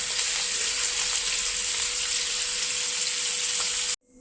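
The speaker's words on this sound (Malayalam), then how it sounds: "ഓയിൽ ചൂടായിട്ടുണ്ട് നമുക്ക് അതിലേക്ക് കോളിഫ്ലവർ ഇട്ട് കൊടുക്കാം ഇത് ബ്രൗൺ നിറമാകുന്നത് വരെ ഇളക്കി കൊടുത്ത് നമുക്കത് വറുത്ത് കോരിയെടുക്കണം" Cauliflower florets frying in hot oil in a pan, a steady bright sizzle and hiss held at an even level throughout before stopping abruptly at the end.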